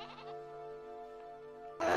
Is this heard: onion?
no